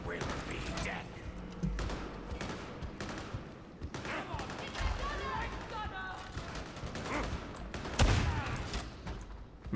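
Gunfire in Warhammer 40,000 Darktide, with bursts of shots and heavy impacts running throughout amid combat noise, a loud blast near the end, and a voice talking over parts of it.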